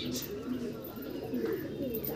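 Pigeons coo nearby in short, low, warbling bursts that repeat several times over faint background noise.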